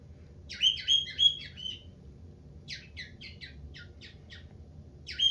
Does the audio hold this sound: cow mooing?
no